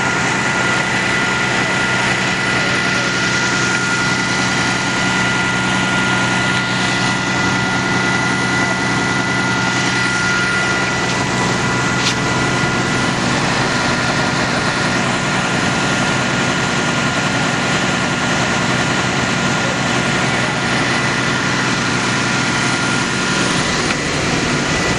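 Oak Lawn fire engine running at a structure fire, with two lines off the rear, makes a loud, steady low engine drone that holds evenly for the whole stretch with no voices.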